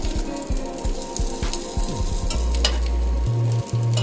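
Food for an Italian dish fries in a pan, a loud close steady sizzle with rhythmic low bubbling pops running underneath, no talking.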